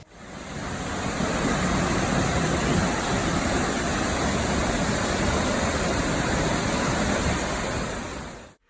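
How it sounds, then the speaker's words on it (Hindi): A waterfall roars loud and constant up close, a dense rushing hiss that fades in at the start and cuts off at the end. "Just look at this waterfall."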